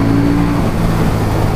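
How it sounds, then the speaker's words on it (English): A KTM 790 Duke motorcycle on its standard exhaust runs steadily, producing a loud, continuous engine drone heard up close with no talking. "For the standard exhaust on it, it pops, crackles, it sounds absolutely gorgeous."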